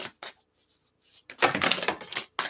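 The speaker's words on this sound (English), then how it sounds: "Give it a couple good shuffles though." Tarot cards riffle and slap together in quick bursts, a short pause, then a longer crisp shuffle close by.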